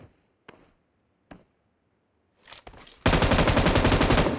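Automatic rifle fire from the mobile battle royale game PUBG Mobile: a few isolated shots, then a short burst, and finally a loud, sustained rapid-fire stream of gunfire with no voices over it.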